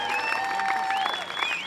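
Audience applause at the opening ceremony of a youth tournament, the tenth Coupe Leblanc, a steady, dense clapping that fills the whole short stretch under bright synthesized tones.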